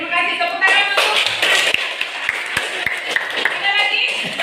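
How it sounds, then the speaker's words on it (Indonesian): Students in a classroom clap together in a short burst of sharp, close hand claps that thin into scattered taps and shuffling. "Tepuk tangan untuk."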